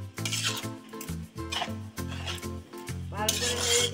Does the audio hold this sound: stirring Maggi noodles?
yes